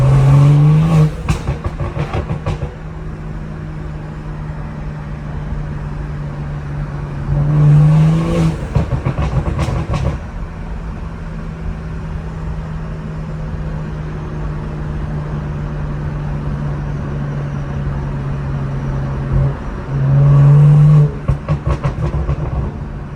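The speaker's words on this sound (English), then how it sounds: "I'm gonna put the windows down and just drive the car so you guys can hear it." BMW with a B58 engine driving with the windows down, steady loud engine drone and road noise with brief rises in revs at the start, around eight seconds and near twenty seconds, no talking.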